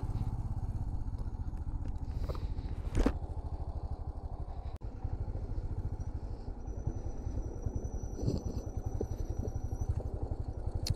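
Two motorcycles carrying three riders run along a rough, waterlogged mountain road toward Kargil in Ladakh, with a steady close engine chug and occasional clatter and scrapes.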